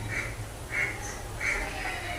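Ducks quack in a river setting, three clear calls spaced evenly about every two-thirds of a second over a steady low background hum, with no talking.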